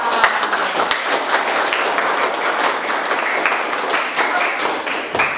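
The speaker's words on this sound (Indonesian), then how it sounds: "Terima kasih untuk hari ini, tepuk tangan." Applause from a school classroom, students clapping together at the end of a lesson, dense and steady for the whole stretch with a few sharper individual claps standing out.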